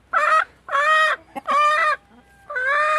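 A hen gives the drawn-out, rising calls of a bird about to lay an egg, four long loud cries with short gaps between them, close and clear with no talking.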